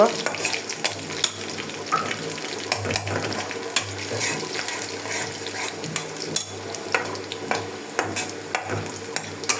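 Onions frying in a pot until brown for tempering a beef and potato curry, giving a steady crackling sizzle with scraping stirring sounds throughout, fairly close.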